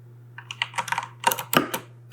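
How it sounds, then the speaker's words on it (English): Computer keyboard keys pressed in a quick irregular burst of clicks, close and clear over a low steady hum. "let's press A or space in the keyboard"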